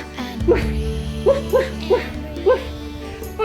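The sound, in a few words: children imitating a dog barking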